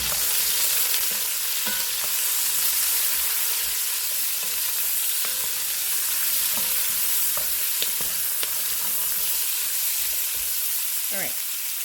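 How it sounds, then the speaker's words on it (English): Carrots, onions and celery sauté over low heat in a pan for beef birria, giving a continuous dense sizzle with light scattered stirring clicks and a scrape near the end, close and steady without speech. "I'm going to add my mirepoix, which is carrots, onions, and"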